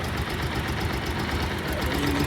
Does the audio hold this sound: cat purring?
no